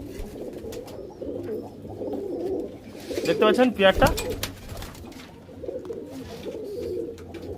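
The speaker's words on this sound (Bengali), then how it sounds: "এই দেখুন রামপুরি পায়রা এমনি মোটা ছোটা বড় হয়" Rampuri pigeons coo in a loft, a soft, repeated throaty burble that swells in the middle of the clip while someone talks over the flock.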